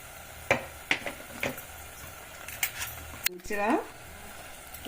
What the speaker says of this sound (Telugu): వేగుతున్నాయి అన్ని మసాలా అన్నీ పడ్డాయండి